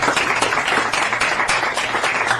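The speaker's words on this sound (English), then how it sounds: "Can we give him another round of applause?" An audience claps for the county executive at a ribbon-cutting celebration outside a deli in Wauwatosa, producing steady, dense applause close by, with no talking over it.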